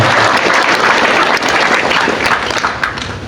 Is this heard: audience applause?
yes